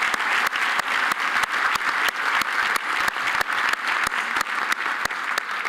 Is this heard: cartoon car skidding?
no